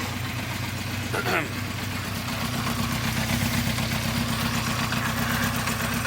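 A 1974 Honda CB350 Four motorcycle, reported as running poorly and not revving, idles steadily while warming up, with an even low rumble throughout and a brief metallic clink early on.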